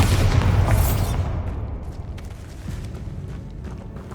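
Bombarda blast spell from Hogwarts Legacy goes off as a loud, deep explosive boom that rumbles and slowly decays into a lingering tail with faint scattered debris ticks.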